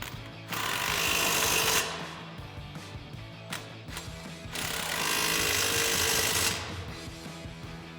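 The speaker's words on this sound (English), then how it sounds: "Now we'll grab our 18 mil socket on our impact and tighten these up." A pneumatic impact wrench fitted with an 18 mm socket hammers the lower strut mounting nuts tight during a Fabtech front leveling kit install on a 2021-2023 Ford Bronco, firing two loud sustained rattling bursts close up with a pause between.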